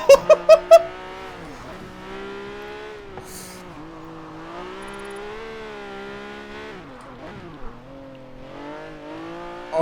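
Honda car in the Forza Horizon 4 racing game accelerates hard through corners, its engine note rising and falling steadily with sustained revving and a few sharp bursts at the start.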